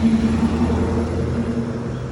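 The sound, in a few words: mail truck driving past on a rainy street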